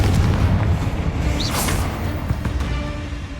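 Confringo blasting spell going off in Hogwarts Legacy: a loud, dense rumble of booms and bursts, with a bright crackling flare near the middle, continuous over a low roaring bed and no talk.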